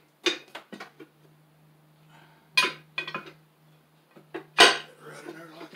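A metal tire tool for a homemade small tire changer built from scrap is handled, giving several separate clanks and clinks spread apart, with a low steady hum underneath.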